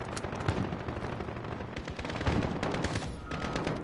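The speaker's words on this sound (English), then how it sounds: "they're shooting at me. I'm being shot at." Dense, continuous automatic gunfire in Call of Duty: Modern Warfare, rapid bursts crackling close and loud with overlapping shots and a busy battle din throughout.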